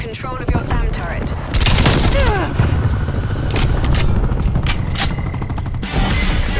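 Incoming artillery fire in Black Ops Cold War: dense, loud rolling bursts of gunfire and booming impacts that run without a break, with a game voice calling out over the barrage.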